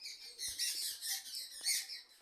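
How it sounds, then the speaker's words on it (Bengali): An owl kept around a household gives faint, harsh, hissing screeches in several rough bursts, quiet and unaccompanied by talk. "সামনে একটা প্যাঁচা আছে, ধরতো।"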